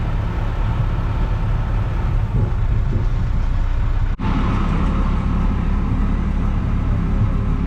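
A Massey Ferguson 3075 tractor pulling an Armer Salmon beet harvester drones steadily and loudly at close range, a continuous low engine rumble with one brief dropout midway and no talk.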